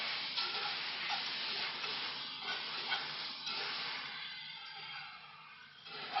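Tomatoes sizzle and crackle steadily in a hot pan as they are stirred, a dense, continuous frying hiss with faint scraping, close and fairly loud throughout with no talking.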